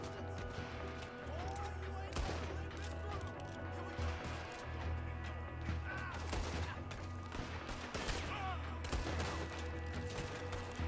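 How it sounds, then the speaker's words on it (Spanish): Rapid bursts of Gatling gun fire in Red Dead Redemption 2 ring out in repeated sharp volleys over a steady low game background, loud and close. "Con la Gatling ahí a tope."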